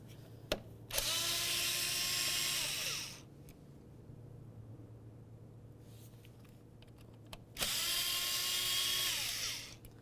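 A powered T20 bit driver spins out two mounting bolts beside the mass airflow sensor of a Buick LeSabre, two separate whirring bursts of about two seconds each, close and fairly quiet, separated by a pause with faint clicks.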